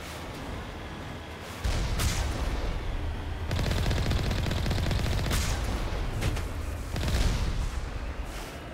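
Mounted vehicle guns fire while driving in Mass Effect Legendary Edition: a dense, loud rattle of rapid shots and booming impacts over a rumbling engine, surging in sustained bursts.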